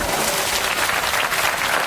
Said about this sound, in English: A big round of applause for everyone who contributed to this remarkable effort